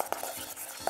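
Lemon juice, homemade kimchi and soy sauce get stirred together in a bowl, quiet scraping with a few light utensil clinks in quick rhythm.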